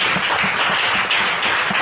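Church congregation clapping in acclamation of Jesus Christ, a brief burst of rhythmic group applause, loud and fairly close, steady across the whole moment.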